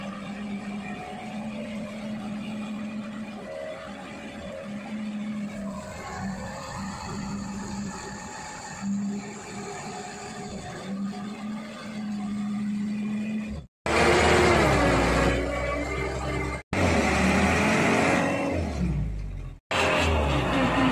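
Indonesian palm oil 4x4 truck engine running steadily with a low droning hum, then revving hard in loud bursts broken by brief cuts as the winch pulls slowly.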